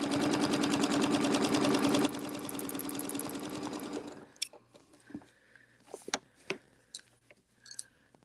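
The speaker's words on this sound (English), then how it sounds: "And I'm just stitching from mark to mark." A sewing machine stitches in a fast, steady mechanical rhythm for about four seconds, then stops, leaving faint clicks and handling noises.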